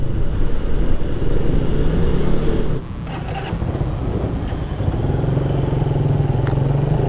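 Motorcycle riding along a winding road with many bends, its engine droning steadily up close, easing off briefly, then pulling hard again as the rider opens the throttle.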